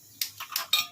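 A cooking pot is set down on a gas stove while preparing a Malvani fish curry, giving three short metallic clatters and scrapes, close and fairly loud, with no talk.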